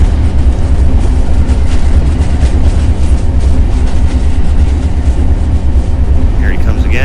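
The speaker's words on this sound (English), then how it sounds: "And my favorite, personally, rail fan mode. Zoom! There goes our train." In the Train Sim video game, a train rushes past a trackside rail fan camera, a loud steady roar and rumble that holds throughout at close range.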